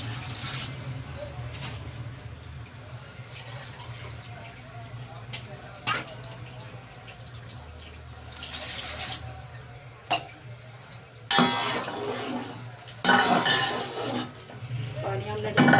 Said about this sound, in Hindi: 2 गिलास में पानी डालेंगे।